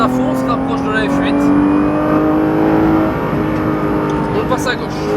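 Loud, close in-car roar of a Porsche 991 GT3 RS revving high while overtaking on the La Ferté circuit, the engine pitch sweeping upward then settling, with a voice speaking throughout.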